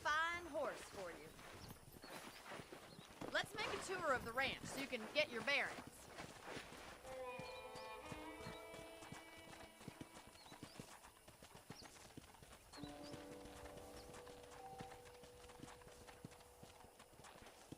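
Horse hooves clip-clopping at a walking pace in the Red Dead Redemption game on a ranch, a steady rhythmic patter running under continuous conversation, with ambient music tones entering partway through.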